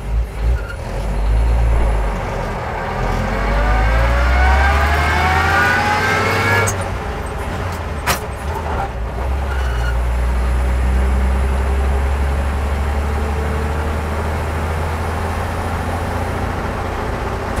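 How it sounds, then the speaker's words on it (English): A 1946 Chevrolet half-ton pickup truck drives along, its engine droning steadily as it picks up speed, with a brief sharp mechanical noise partway through and no talking. "This is a half-ton pick-em-up truck here."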